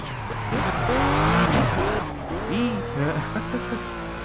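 A Ruf RT12R drifts in the Project Cars racing game, its engine roaring steadily while the tires squeal and skid through the corner, loud and continuous throughout.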